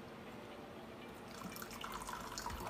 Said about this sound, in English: we're gonna add that same water in to those wet leaves and see what we can get